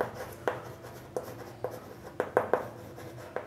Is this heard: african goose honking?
no